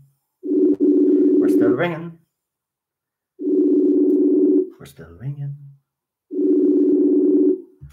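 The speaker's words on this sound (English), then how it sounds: "We're still ringing." Three long, even ringback tones pulse at regular intervals on a phone line, with a voice speaking briefly between them.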